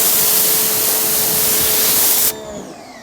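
Bug remover sprayed onto a car hood: a loud, close, continuous hiss of aerosol spray lasting about two seconds, then cutting off abruptly into a quieter tail.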